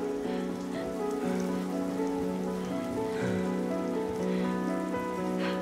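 Steady rain falls on surfaces, a continuous even patter with no voices over it.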